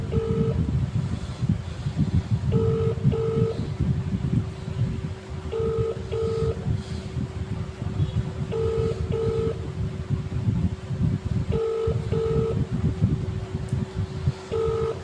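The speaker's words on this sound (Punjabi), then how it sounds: "ਇਹ ਗੁਰਦੀਪ ਸਿੰਘ ਨੂੰ ਮੈਂ ਫੋਨ ਮਿਲਾ ਰਿਹਾ ਇਹਦਾ ਮਿਲ ਨਹੀਂ ਰਿਹਾ" Phone call tones repeat in a regular pattern of paired beeps, heard over a constant low engine rumble as if from inside a vehicle.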